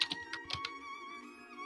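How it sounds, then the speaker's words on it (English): A burst of quick computer keyboard keystrokes, close and crisp, several clicks in a rapid cluster over a sustained tonal hum, then trailing off into the hum alone. "I'll type it out."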